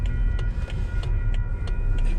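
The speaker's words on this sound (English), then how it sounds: "Metro North train." A Metro North train rolls past on a single-track line, a loud, close, steady rumble with rhythmic wheel clatter and no voices.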